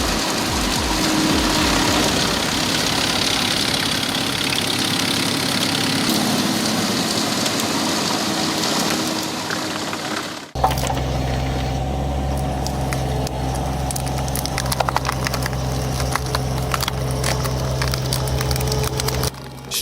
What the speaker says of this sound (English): The Moose Max wood chipper offers high-efficiency performance for serious chipping needs.